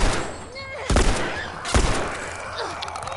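Gunfire in The Last of Us Part 1 game: two sharp, loud shots about a second apart ring over a busy background of combat noise.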